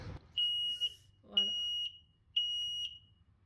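Three loud, piercing beeps from a smoke detector being tested, each about half a second long, with a brief bit of handling noise before.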